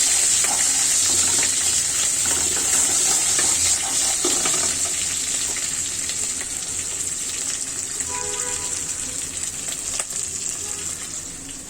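Panch phoron and black cardamom fry in hot oil as they are stirred, giving a loud, steady close sizzle with light scraping that eases slightly toward the end.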